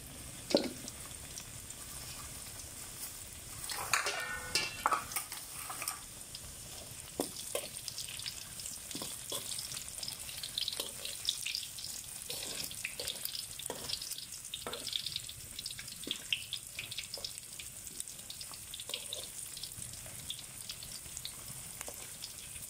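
Battered pumpkin pieces deep-fry in oil over medium-low heat, giving a soft, continuous bubbling sizzle with occasional louder pops and stirring clinks.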